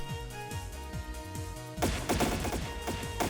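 Gunfire in the video game Trails in the Sky SC, a dense burst of rapid impacts and blasts that jumps in loudness partway through, layered over steady game music.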